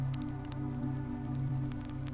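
Steady rain falls on a gray autumn day in Edinburgh, a dense, even patter of drops on surfaces with a few sharper nearby splashes. It is continuous and close, with no voices.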